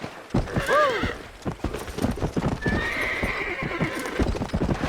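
Horse hooves clip-clopping and a whinny in the Red Dead Redemption video game, a sharp neigh early on, then steady hoofbeats under game dialogue and ambient sound.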